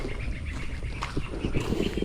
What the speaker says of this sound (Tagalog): Silipin natin yung mga sisiw na bibe